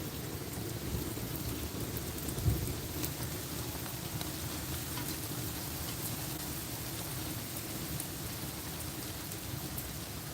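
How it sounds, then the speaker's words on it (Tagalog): Steady heavy rain pounds surfaces during a hailstorm with strong wind, a broad constant roar with one brief thump near the middle and no voices. "Ngayong year lang may hailstorm."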